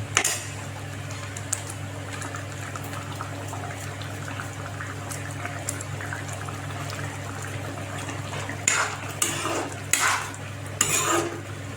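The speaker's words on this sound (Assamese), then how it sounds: "অকণমান লৰাই দিছোঁ হাতাখনেদি।" Ladle stirring a simmering chicken and taro curry in a pot, a continuous bubbling low rumble with a few scraping clinks of metal against the pot near the end.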